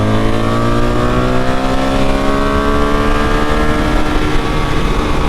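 A BMW R 1300 GSA motorcycle with clutchless automated shifting revs hard toward redline, its loud, close engine note climbing steadily in pitch without a break.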